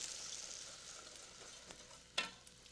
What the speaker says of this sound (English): just whisk in the flour and butter